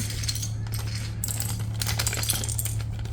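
Small hard keyboard accessories, including a keycap puller, spill out of a box for a Nubwo X37 keyboard, making a dense, continuous clatter of tiny plastic and metal pieces over a steady low hum, with no talking.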